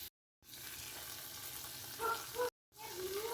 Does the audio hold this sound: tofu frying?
yes